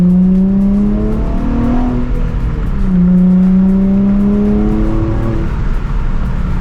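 A Nissan 350Z's engine revs hard while driving, loud and close, with a steady throaty drone that rises and falls through gear changes and throttle bursts, with no voices.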